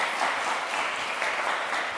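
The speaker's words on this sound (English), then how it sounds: "So big applause to the back office" A conference audience in Riga applauds steadily, a dense, even wash of many hands clapping together with no voices over it.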